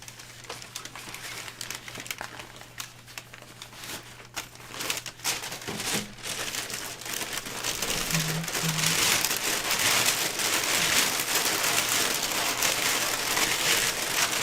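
Paper crinkles and rustles in a steady, dense wash that grows louder and fuller through the second half, close by, with no talk.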